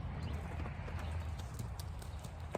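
Hooves of a two-year-old mustang clip-clop steadily at close range, a dense run of soft thuds with faint background noise and no talking.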